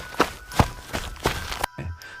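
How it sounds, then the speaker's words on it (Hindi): Heavy footsteps in a horror story setting, four or five slow, evenly spaced thuds close by, each a dull heavy impact, ending in a sudden cut to near silence. "तभी पीछे से भारी कदमों की आवाज सुनाई देती है"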